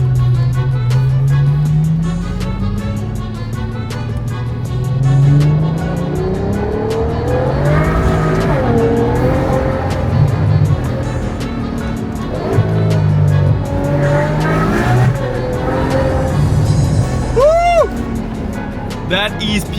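A V12 car engine revs hard and loud at close range, its pitch climbing and falling in repeated sweeps with tire-squeal-like tones, while people exclaim over it.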